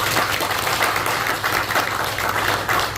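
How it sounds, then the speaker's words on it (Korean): Church congregation applauding at a pastor's retirement and installation service, a dense, steady wash of many hands clapping in a large room, fairly loud and sustained. "그 열매를 뒤로하고 새로운 일과 시작하는 결단에 우리 모두 큰 박수와 찬사를 보내드리고 싶습니다."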